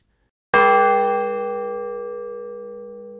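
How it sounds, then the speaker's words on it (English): A church bell, heard from a cottage across the fields, is struck once and rings out loud and clear, its tone slowly fading over a few seconds with nothing else audible. "I heard the church bell chiming."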